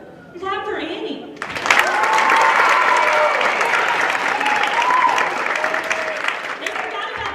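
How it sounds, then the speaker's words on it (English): Audience applause fills a high school band concert after a brief spoken introduction, rising into steady, dense clapping from a large crowd that holds strong for several seconds. "Clap for Annie."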